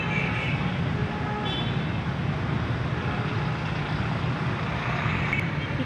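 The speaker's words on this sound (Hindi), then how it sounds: "इस पार्क के पिछली तरफ सड़क है, गाड़ियों का शोर सुनाई भी दे रहा होगा आप लोगों को।" Steady road traffic noise from a road behind a small park in Kashmir, a constant low rumble of passing vehicles at moderate distance with no clear individual horns or voices.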